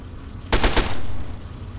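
Bursts of turret gunfire from a companion in Fallout 3, a rapid cluster of sharp shots lasting under a second, loud and close against a low background hum.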